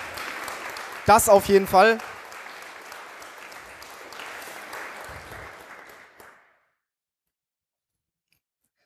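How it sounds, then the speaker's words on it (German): Audience applause at a conference lightning-talk session, a broad wash of clapping from a crowd lasting several seconds and fading out, with a brief spoken remark over it early on before silence. "es wäre mal Zeit, hier unserem Technikengel einen Applaus zu geben"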